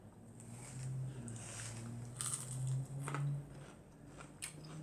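Fried white sea bass crunched while being chewed, giving a few faint, close crisp bites over a low background hum.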